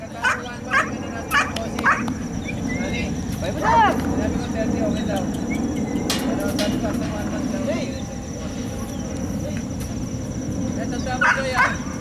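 Puppies yip and whimper in short, high bursts over a steady rumbling background, with people talking nearby.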